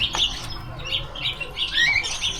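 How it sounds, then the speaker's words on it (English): Several caged birds at a farm in Germany chirp and tweet in quick, bright bursts, a busy overlapping chorus of high calls that carries on steadily throughout, moderately loud and close. "And here another cage with some other birds."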